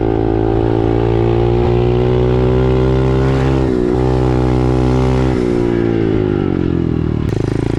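A small 125cc SyxMoto dirt bike engine runs close by in a steady, buzzing drone, with its revs dipping briefly twice and shifting pitch near the end.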